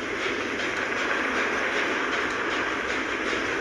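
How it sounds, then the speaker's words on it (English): A train moving in a Roblox mob video game gives a steady, loud rumble and rushing noise with faint rhythmic clatter, continuous and unbroken with no talking. "Oh, he's driving the train."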